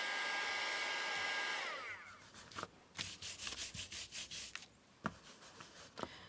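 A hair dryer blows steadily for about two seconds to dry Distress Ink in Rusted Wilderness on a papercraft piece. Then it cuts off, leaving a series of rubbing and brushing strokes.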